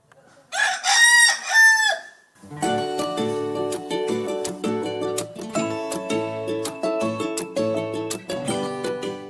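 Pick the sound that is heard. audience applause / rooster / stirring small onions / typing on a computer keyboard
rooster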